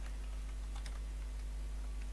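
Keystrokes on a computer keyboard while writing in Notepad, a quiet, faint run of light taps with a few slightly sharper clicks over a steady low hum.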